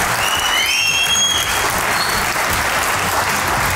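Steady applause from a studio audience on a comedy talk show, continuous close clapping at an even level throughout, with a faint whistle-like tone early on.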